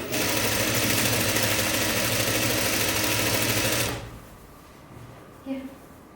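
A sewing machine stitches a jumpsuit in a steady, fast, loud mechanical whir for about four seconds, then stops abruptly, leaving quiet room tone and a faint small clatter.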